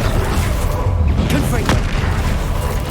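A Confringo fire spell detonates in Hogwarts Legacy, a loud booming blast amid dense game combat noise with a voice shouting over it and a couple of sharp crackling bursts near the middle.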